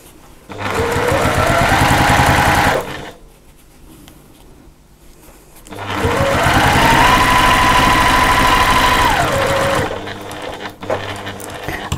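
A sewing machine stitches along the bottom of a fabric wallet in two loud, close bursts of steady whirring, ramping up and winding down, separated by a quiet pause.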